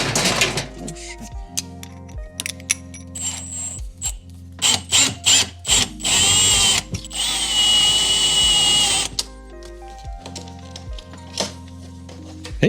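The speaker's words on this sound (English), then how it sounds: "So maybe it's time to open these holes." A power drill bores holes through a radiator bracket, with short trigger bursts followed by a longer, loud sustained run in the middle, then a few more brief spins, close up with workshop knocks between.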